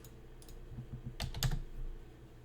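A handful of soft, close keystrokes on a computer keyboard tap out a value in a quiet room, clustered in a brief burst.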